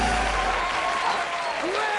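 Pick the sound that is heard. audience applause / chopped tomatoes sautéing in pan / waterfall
audience applause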